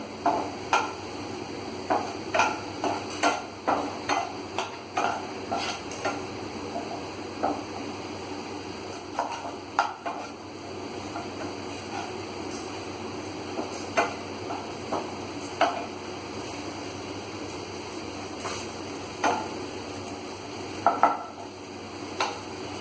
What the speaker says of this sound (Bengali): এবার তেলটা গরম হয়ে গেছে এবার আমি ক্যাপসিকাম কুচিগুলো ছেড়ে দিলাম